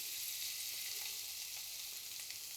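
Soaked, boiled chana dal frying in about four tablespoons of hot ghee, a steady, dense, even sizzle that holds without pause throughout.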